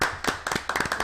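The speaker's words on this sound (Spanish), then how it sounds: "vamos a recibir a Segundo Maldonado con el aplauso que recibimos a todos nuestros invitados" A few people clapping to welcome a guest on a television talk show, a brief burst of sharp, close, uneven hand claps lasting about a second.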